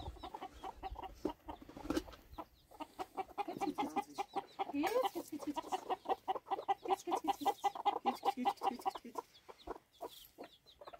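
Chickens and a rooster cluck in a steady, busy stream of short repeated calls, close and fairly loud, with a few faint voices in the background.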